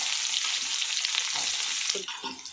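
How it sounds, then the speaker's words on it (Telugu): Onions tossed into a hot tempering of spices in a pan, a dense bright sizzle that runs steadily, then eases slightly near the end as stirring begins. "తాలింపు వేగిపోయిందండి ఇదిగోండి ఉల్లిపాయలు తగిలించేద్దాం"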